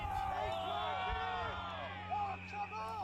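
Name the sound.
crowd cheering at an Adelaide amateur football match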